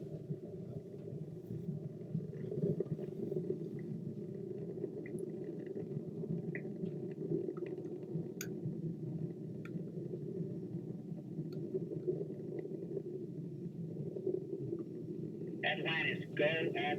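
Space Shuttle Atlantis main engines during its final launch: a steady, distant low rumble that fills the whole stretch, with a faint voice cutting in near the end.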